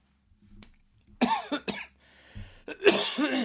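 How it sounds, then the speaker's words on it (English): Several dry coughs and throat clearing from a person close by, irregular bursts separated by short quiet gaps, with no other sound around them. "Sorry, I've got a dry cough."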